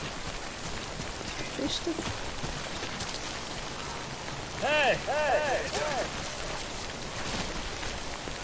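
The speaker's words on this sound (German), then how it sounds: "Ich sollte nicht zu lange im Regen stehen" Rain in the video game Death Stranding pours as a constant hiss of drops on surfaces, with someone speaking briefly over it and a short warbling electronic tone in the middle.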